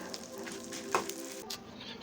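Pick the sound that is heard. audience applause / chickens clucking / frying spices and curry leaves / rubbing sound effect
frying spices and curry leaves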